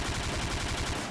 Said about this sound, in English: I'm gonna shoot your Achilles heel